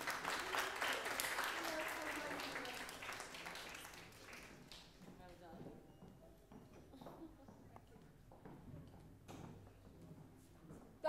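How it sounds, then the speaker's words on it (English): An audience at an International Women's Day event applauds after a speech, loud dense clapping at first that gradually thins into scattered claps, with faint talk underneath. "Can we give Hawa another wonderful round of applause?"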